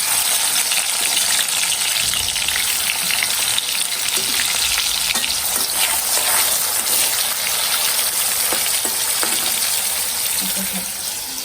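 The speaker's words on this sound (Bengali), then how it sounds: "এখন ভাত খাওয়ার আগে আলুটা ভাজবো এখানে হলুদ মরিচ লবণ দিলাম আর তেল দিয়ে" Potato pieces fry in hot oil with turmeric, chili and salt in a home kitchen, giving a loud, steady sizzle that runs unbroken throughout with a light stirring texture.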